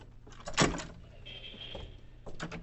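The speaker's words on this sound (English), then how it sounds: "We let ourselves out the front door." A front door opened and shut in an old-time radio detective drama: a sharp latch clack, a brief creaking swing, then closing clicks and knocks, close and fairly loud with no talking.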